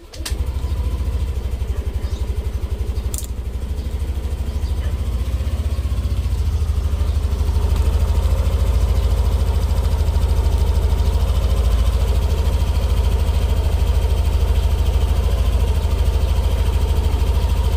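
A Yamaha NMAX scooter with 36,731 km on the clock idles steadily close up, its low engine rumble even and continuous throughout, with faint birdsong in the background and no talking.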